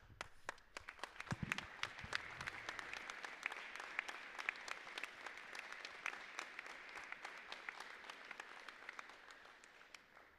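Gymnasium crowd at a high school varsity basketball game applauding standing veterans and first responders, scattered sharp claps over a sustained patter, moderately distant.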